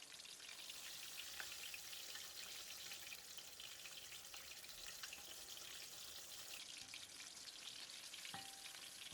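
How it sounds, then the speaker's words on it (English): Fish for a sweet, sour and spicy dish fries in a pan of oil, giving a steady, dense hiss and crackle with scattered pops throughout, fairly quiet and uninterrupted by any talk. "Continue to fry the other side for 4 to 5 minutes."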